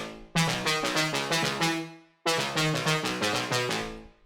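A trance synth lead with EQ and reverb, playing a bright staccato melody in two phrases split by a short gap, with reverb tails and a thinned low end.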